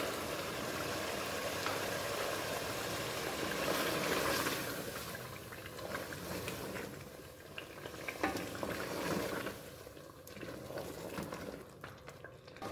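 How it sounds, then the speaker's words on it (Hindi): Chicken achaar gosht frying in a pan after 150 grams of whipped yogurt is added, a constant crackling sizzle with stirring, loudest early and easing slightly later. "अब हम इसमें डालेंगे ये 150 ग्राम दही"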